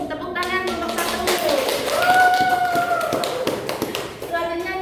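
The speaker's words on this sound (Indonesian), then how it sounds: "Tepuk tangan kelompok 1." A classroom of students claps for group 1 during a lesson, a quick patter of hands mixed with children's voices and a sustained tone, moderately loud and close.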